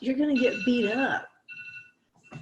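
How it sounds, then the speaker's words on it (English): An alarm rings in short tonal bursts during a sermon, following a brief spoken line and then sounding on its own in the final second. "Oh, that's the alarm."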